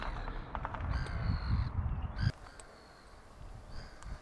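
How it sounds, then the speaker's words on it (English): Crows cawing outdoors near a closed burger van, several harsh calls scattered over a few seconds against breezy ambient noise, moderately close, with no talk. "All them crows, look."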